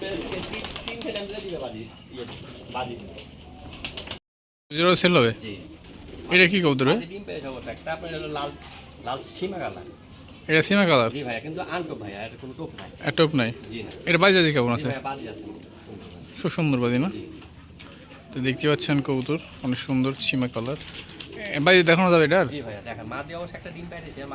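Pigeons cooing repeatedly in a loft, soft throaty coos recurring close by with some wing flapping, heard under someone talking in Bengali.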